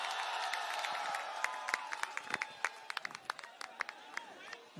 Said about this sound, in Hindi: जोरदार तालियां हो जाए सर के लिए